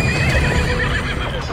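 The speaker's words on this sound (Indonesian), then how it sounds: "terdengar derap orang-orang berkuda mendekat" A group of horses carrying riders approach with dense, rapid hoofbeats and loud neighing, a continuous busy rumble throughout with no talking.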